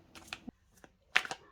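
Tarot cards being shuffled by hand, a few quick, soft riffling flicks in short bursts with brief pauses between them, close and fairly quiet.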